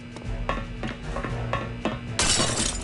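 Glass shattering in the video game Return to Castle Wolfenstein: a string of sharp clinking breaks and tinkles, then a louder, bright crash of splintering glass near the end, all close and clear with no talking.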